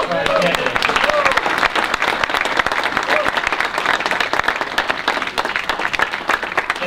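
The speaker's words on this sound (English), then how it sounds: "how about a round of applause for our candidates?" Audience applause at a candidates forum for the New Hampshire Speaker of the House race, dense steady clapping from a crowd that holds for about seven seconds, with some voices mixed in.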